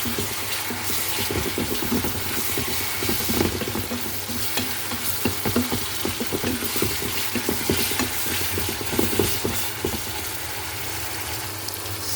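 Squid sautés in a pan for Filipino adobong pusit with a dense, constant sizzle and frequent stirring clatter, close up.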